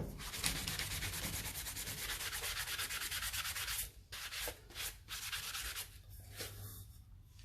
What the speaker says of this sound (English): I'm going to sand around this rim, this lip, because I want it to be as smooth as possible.